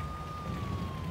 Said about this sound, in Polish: Policaje wyją.